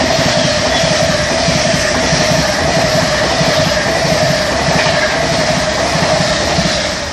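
A Virgin Trains Pendolino passes through Cheadle Hulme station, a loud continuous roar with rhythmic clickety-clack of wheels over rail joints, sustained close by throughout.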